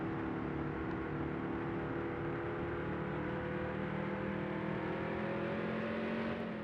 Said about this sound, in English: As we finally make our way down pit road.